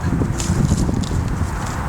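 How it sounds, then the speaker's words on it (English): A BLM mustang mare under her first saddle walks in a Colorado training session, hooves thudding in a steady, moderately close clip-clop while a rider talks over the footfalls. "Okay, I'm riding my horse."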